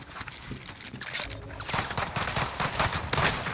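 Shotgun blasts in the battle-royale game Warzone boom out in quick succession, several loud close shots crowding together with clattering movement between them, and no talking.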